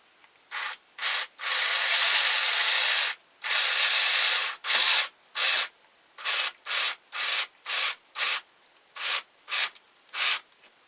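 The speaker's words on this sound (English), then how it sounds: "We'll use a little glue and then we'll screw it in." A screw is driven by hand into a wooden ventriloquist dummy figure, producing a run of short, rasping twisting strokes, some long and some quick, close and clear with no voices.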